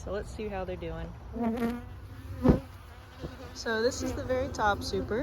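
Honey bees buzz around a white hive with honey supers, a steady close hum running under a voice as he talks through the inspection.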